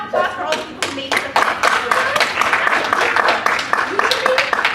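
A workshop audience claps together in a round of applause, distinct hand claps at first building into steady, fairly close clapping that continues for several seconds.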